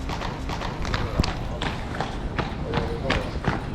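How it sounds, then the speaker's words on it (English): A horse pulling a carriage clip-clops across a paved square in Krakow, Poland, the steady hoofbeats sitting under a busy crowd murmur and nearby talk. "And here we have a horse carriage."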